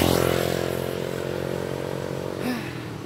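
A motorcycle engine runs just after being started with the starter, idling steadily and close by, with a brief rising whine partway through and no one speaking.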